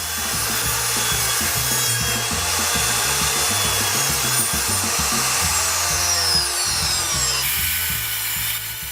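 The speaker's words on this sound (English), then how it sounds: "The next step is to cut the slides to go on the track and the table saw." Table saw cutting scrap pine into slides for a crosscut sled, a loud, steady, close whine with a rasping blade-through-wood texture running the whole time and changing slightly near the end, no talk.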